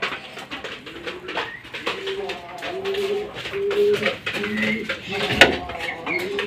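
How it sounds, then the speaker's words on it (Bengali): A pigeon coos repeatedly in rhythmic low phrases close by, with other birds, faint clinks of dishes and occasional background talk. "অনেক ডাকাডাকি করে এই কবুতরটা"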